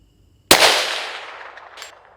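A .22 WMR rifle fires one sharp close crack that rings out, followed about a second and a half later by a faint metallic ding from a distant steel target.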